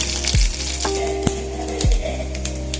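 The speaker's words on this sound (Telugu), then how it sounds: "కొంచెం వెల్లుల్లి బ్రౌన్ కలర్లోకి వచ్చే వరకు మీరు ఇలా బాగా వేయించుకోండి" Garlic and curry leaves fry in hot oil for pesarapappu charu, a close sizzle and crackle with a couple of sharp clatters and low thumps from stirring in the pan.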